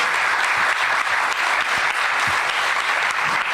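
Sustained applause from a seated audience at an Argentine book presentation for Calica Ferrer, friend of Che Guevara, a thick even roar of many clapping hands filling the room without pause.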